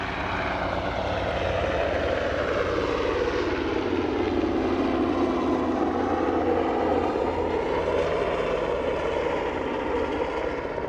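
Aer Lingus airliner at Aberdeen airport, a steady, loud engine roar with a broad droning rumble that holds level for the whole stretch, no voices over it.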